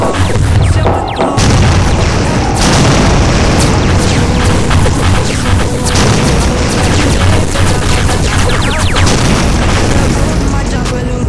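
Loud, dense booms and blasts like missile explosions, sounding near and continuous, with sharp bursts and crashing layered over a constant rumble throughout.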